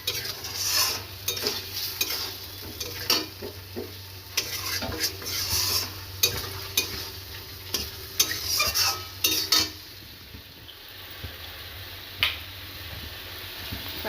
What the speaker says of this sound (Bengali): এবার ডিমটা দিয়ে একটু কষিয়ে নেব।